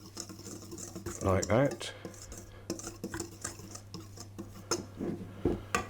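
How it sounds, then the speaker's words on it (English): Cocoa powder is whisked into flour in a bowl for chocolate shortbread, with a short burst of brisk whisk rattling followed by lighter, scattered clinks and scrapes while a person speaks briefly. "So we will whisk our cocoa powder into the flour just to mix it in a bit."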